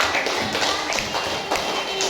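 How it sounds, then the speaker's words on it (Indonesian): A classroom of third-grade elementary schoolchildren claps for their classmates, a dense, steady patter of many small hands, fairly loud and continuous throughout, with no clear talk over it. "Oke, kasih tepuk tangan buat kawan-kawan."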